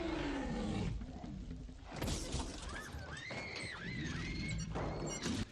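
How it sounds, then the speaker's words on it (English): A T-Rex in a film scene lets out loud, sweeping roars at a car, mixed with crashing and shattering impacts and bursts of rumbling movement. "T-Rex roars at the car"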